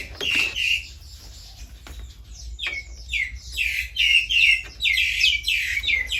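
Birds chirp and tweet busily outdoors in a series of bright, overlapping calls and short phrases, fairly close and lively, over a low ambient hum with no talking.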